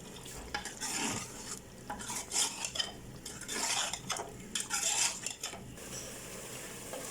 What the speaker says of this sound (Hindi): अब हम आंच तेज़ करके इसको अच्छी तरह भून लेंगे।